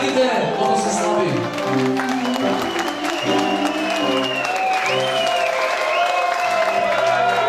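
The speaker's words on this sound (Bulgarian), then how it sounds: "Аплодисменти по-силно!" Wedding guests clap steadily in a dense, sustained round of applause, with a band's music playing underneath and voices calling out over the crowd.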